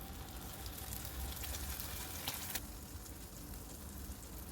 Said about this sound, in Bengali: এখন এটাকে আমি তেলের মধ্যে দিয়ে দেব